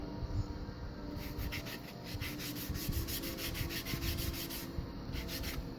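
Cloth rubbing a wooden piece clean with denatured alcohol, a steady close scrubbing hiss with rhythmic back-and-forth strokes and no talking.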